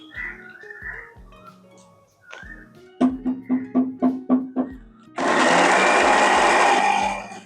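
A kitchen mixer grinder grinds onion and dried chilli chutney in a short series of rhythmic pulses, then runs in one loud, continuous whirring burst for about two seconds before stopping.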